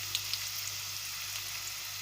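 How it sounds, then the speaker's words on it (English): Onion, ginger and garlic fry in a quarter cup of heated oil for chicken rangdhang, a dense even sizzle with a couple of faint pops near the start. "It is heated and in the oil I will add onion"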